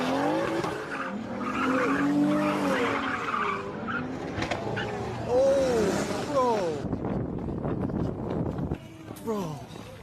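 Car tires squeal and screech repeatedly under hard acceleration as an engine revs hard at a car meet, moderately loud with crowd noise and chatter in the background.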